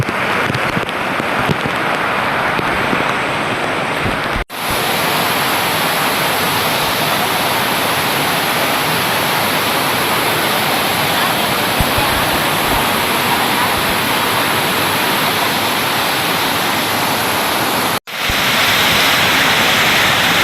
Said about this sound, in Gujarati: બધે વરસાદના ધોધ અત્યારે પડવાનું ચાલુ છે